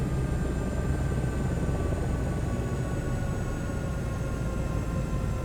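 A helicopter shutting down after landing in Toronto with the rotor brake applied: a steady, loud mechanical roar and whine with faint high tones, continuous and unbroken throughout, with no talk.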